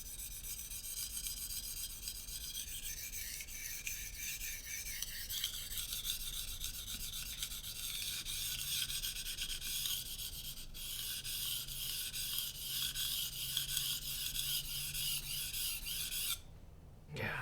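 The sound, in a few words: knife being sharpened on oiled Arkansas sharpening stone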